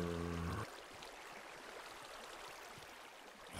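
Waterfall in the Minecraft video game, a steady soft rushing of flowing water heard alone after a brief musical note fades at the start.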